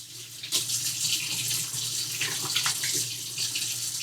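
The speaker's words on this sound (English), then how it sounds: "we're going to wash these porky hands" Hands are washed under a running kitchen tap after handling pork shoulder, a steady close hiss of flowing water with uneven splashing as the hands move through the stream, continuing alone without talk.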